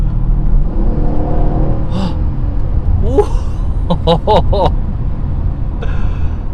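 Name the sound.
Mercedes-Benz CLS550 accelerating hard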